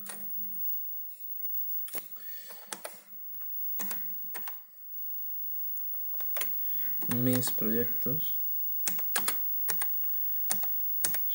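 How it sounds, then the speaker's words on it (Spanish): Someone types slowly with the left hand on an Amstrad 6128 Plus keyboard, making sparse, uneven clicks and clacks with gaps between bursts, while someone talks briefly in the middle. "Estoy tecleando con la mano izquierda, por eso la velocidad no es gran cosa"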